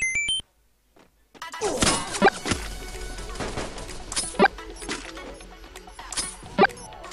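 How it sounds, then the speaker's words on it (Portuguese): Gunfire in the Free Fire battle royale game, sharp shots spaced irregularly through a busy game soundscape with beeps, moderately loud and close. "Tem um cara atirando em mim, velho."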